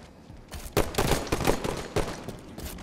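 Repeated blasts from thrown grenades in Halo 5 multiplayer, a dense run of sharp explosive bursts going off one after another at close range with hardly any pause.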